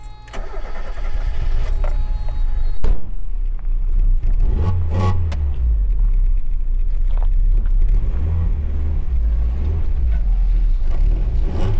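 A Mazda Miata MX-5 running steadily at close range as it is pulled in, with a low, constant engine rumble and some whir, briefly rising in revs and staying loud throughout.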